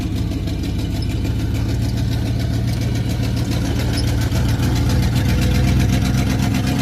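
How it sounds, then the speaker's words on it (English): A car engine running on straight exhaust piped directly off the manifolds through a crossover pipe, loping steadily in third gear just above idle, a continuous low rumble with a slight swell toward the end. "You think it'd be louder than that being straight exhaust. Straight off of the manifolds like that."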